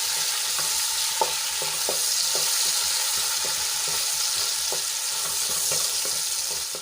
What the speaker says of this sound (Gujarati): એમાં આપણે એક ઝીણું કાપેલું ટામેટું એડ કરી લઈશું અને થોડુંક આપણે સાંતળી લઈશું